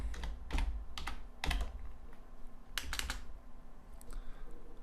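Someone types a short folder name on a computer keyboard, with a few close, crisp key clicks in quick bursts and small gaps between them.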